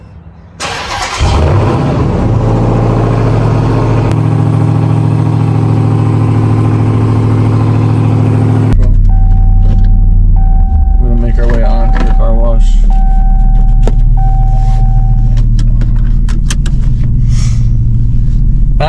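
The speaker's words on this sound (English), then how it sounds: "we're gonna fire up a cold start right now on the TRX" A Ram TRX truck fires up from a cold start with a quick starter crank and a loud, deep engine catch, then settles into a heavy, steady rumbling idle that shifts to a lower, smoother tone partway through.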